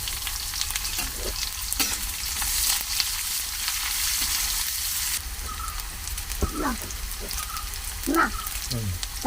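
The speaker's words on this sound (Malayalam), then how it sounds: "കടുക് പൊട്ടിക്ക്." Mustard seeds splutter and crackle in hot oil for a home curry, a steady loud sizzle with sharp pops, and voices talking now and then over it.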